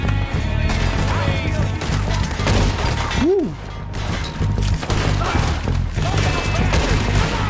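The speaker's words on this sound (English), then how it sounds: "Nossa, olha esse tiro." Rifle gunshots in Red Dead Redemption 2 crack over a loud, busy outdoor soundscape, with repeated sharp reports and a brief voice-like swoop in the middle.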